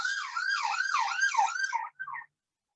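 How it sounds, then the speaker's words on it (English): A London ambulance siren wailing, rising and falling several times, fairly close and clear, then cutting off abruptly into silence. "so you may be hearing some of the London ambulances"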